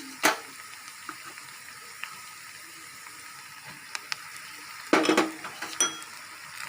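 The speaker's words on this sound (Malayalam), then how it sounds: "ദേഹത്തൊക്കെ ഇത് എണ്ണ തെറിച്ച് പൊട്ടി വീഴും" Hot oil sizzles and pops in a pan while onions and hibiscus flowers fry for homemade hair oil. A quiet steady crackle is broken by sharp isolated pops, with two louder bursts of spattering.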